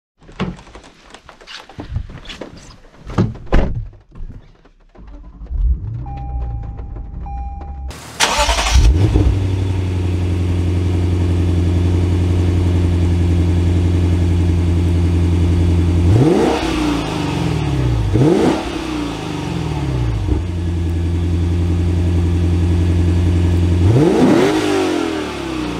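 Lexus RC F Fuji starting up after a few thunks, its engine settling into a loud steady idle, then revving and pulling away with several rising surges as it drives off, no talking.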